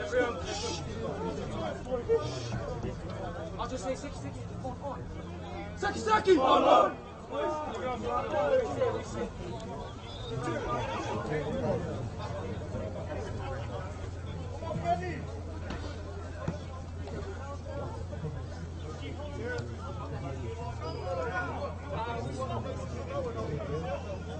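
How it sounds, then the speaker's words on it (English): A community rugby league crowd at an under-16 match in New Zealand makes a low, continuous hubbub of distant chatter and occasional shouts, with a brief louder swell of voices partway through under a steady background hum. "Good to have crowds back here at community sport level"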